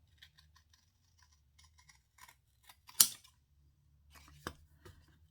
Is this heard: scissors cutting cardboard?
yes